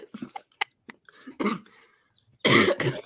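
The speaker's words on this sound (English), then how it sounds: "when I start laughing too hard, I cough" A person coughs several times in short, sharp bursts with gaps between them, close and fairly loud, ending in a stronger run of coughing after a bout of hard laughter.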